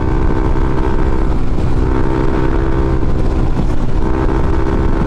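A motorcycle fitted with a JVT pipe and CVT set rides at speed, its exhaust a loud, steady, rough drone mixed with wind rush, heard close and continuous throughout.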